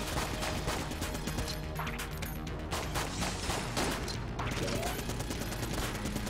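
Dense, continuous gunfire and bullet bursts from the roguelike shooter Enter the Gungeon, a busy stream of rapid shots and crashes layered over game music at steady loudness.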